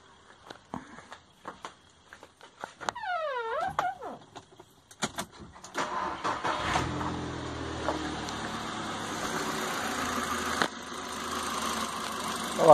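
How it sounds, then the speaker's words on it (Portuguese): JAC J2 car with a battery that won't charge: a few clicks and a rising, wavering starter whine, then the engine catches and settles into a steady, fairly quiet idle hum. "Então vamos dar partida no carro."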